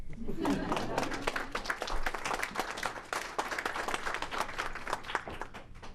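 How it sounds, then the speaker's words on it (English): A small audience applauds a speaker at a book talk held at the ACLU, with steady mid-level clapping and individual claps audible throughout. "You can clap."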